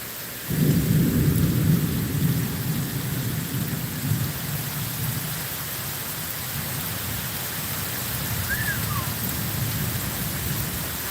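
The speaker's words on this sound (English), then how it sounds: "No, actually the rain is pretty cool." A deep rumble of thunder rolls in and fades, while heavy rain pours steadily throughout, loud and close.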